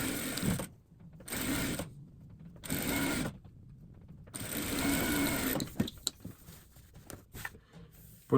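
A sewing machine stitches a patchwork block for a cushion cover, running in close, even bursts separated by short pauses, followed by softer handling noises and light clicks.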